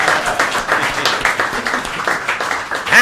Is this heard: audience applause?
yes